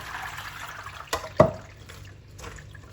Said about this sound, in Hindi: अब यहाँ पे करेलों को धो लेंगे